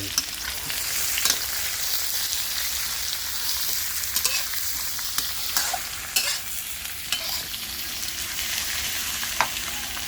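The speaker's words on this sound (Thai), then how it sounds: "ผัดน้ำเต้า" Bottle gourd stir-fried in a pan over garlic, a constant loud sizzle with repeated scraping and clinking of the spatula.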